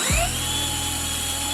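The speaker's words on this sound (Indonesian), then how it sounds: "Pasang tabung kecilnya pada mata bor dan jepit dengan tang pada kedalaman yang Anda inginkan." A power drill spins a bit fitted with a depth stop made from a rivet's metal sleeve crimped on with pliers, a steady high whine that starts with a brief low thump and holds loud and close throughout.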